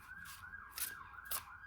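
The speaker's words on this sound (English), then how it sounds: "Not to be outdone by the ambulance." A distant siren wails in a steady rising-and-falling tone, faint and far off, with soft rustling close by.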